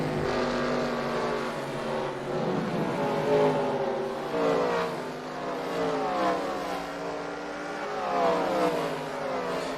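Dirt track race cars roar around turns three and four at the Knoxville Nationals, engines rising and falling in overlapping revving sweeps as several cars pass at a steady, loud distance.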